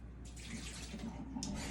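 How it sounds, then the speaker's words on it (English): Water is dumped out of a Tupperware Power Chef container into a sink, a continuous splashing pour that runs steadily throughout, fairly quiet and with no talk. "So I'm gonna dump this water out though."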